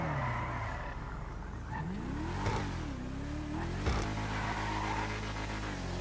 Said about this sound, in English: In my personal opinion, the Emirates is the most fun car to drive.